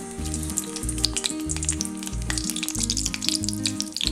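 Dalda vanaspati fat sizzling and frying in a hot pan, a steady crackle under a loud rhythmic musical pulse.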